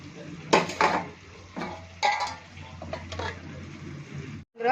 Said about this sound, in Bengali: তো চলুন, এইবার আমি 20 মিনিটের মতো ঢাকা দিয়ে দেবো।